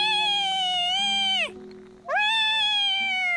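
A kitten named Peeper meows twice like an ordinary cat, two clear drawn-out cries separated by a short pause, close and loud with no talking.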